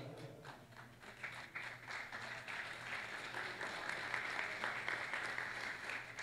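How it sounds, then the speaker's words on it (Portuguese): A church congregation gives a round of applause after a sermon, heard as a fairly soft, somewhat distant wash of many hands clapping steadily for several seconds. "Se esse aplauso for para mim, tá bom, tá ótimo"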